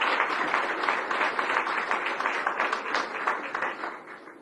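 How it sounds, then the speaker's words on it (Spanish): An audience at an industry expo applauds steadily for several seconds, a dense even patter of many hands heard from a moderate distance. "Ajá, un aplauso."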